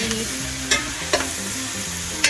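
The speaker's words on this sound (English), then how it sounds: "And then I'm going to mix it around with the celery," Beef stew meat with celery and onions is stirred in a pot, a low sizzle under four distinct scraping knocks of the spoon against the pot, close and clear with no voices.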